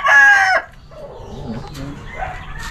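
A prized fighting rooster crows once, loud and close, then fades into quieter farmyard ambience with faint clucking.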